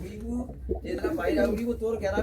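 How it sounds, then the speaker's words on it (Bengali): Pigeons coo softly in a loft in Chandipur, Medinipur, their low murmuring calls running under someone talking close by. "দাদার কাছে তো নানান রকমের পায়রা রয়েছে"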